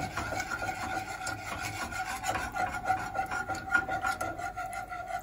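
A spoon scrapes and rubs around a pan as milk is stirred into a macaroni pie sauce, making a continuous close rasping sound with faint rhythmic strokes and no speech.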